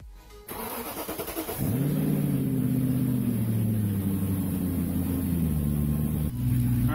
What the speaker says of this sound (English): Alright, so I've got the car running now.